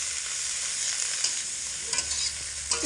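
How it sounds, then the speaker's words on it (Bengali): Potatoes cut into thin strips sizzle and fry with spices in a pan, with close scraping and stirring strokes over a steady hiss. "আলু দিয়ে মশলা খুব ভালো করে একসঙ্গে কষিয়ে নেব।"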